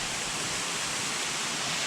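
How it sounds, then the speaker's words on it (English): A hidden waterfall near Llanwonno in South Wales sends up a steady, broadband rush of falling water that holds an even level throughout, with no voices. "But you get to see this amazing hidden waterfall."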